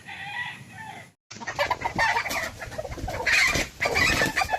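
A white kelso gamefowl rooster crows and clucks nearby, with a short gap of silence before a steady run of loud calls and clucking.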